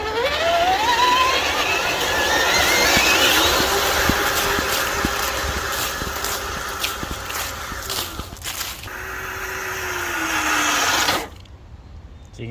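Traxxas TRX6 Mercedes G63 6x6 RC crawler running in first gear on a 3S battery, a loud continuous electric motor whine that climbs and dips in pitch, then cuts off abruptly near the end.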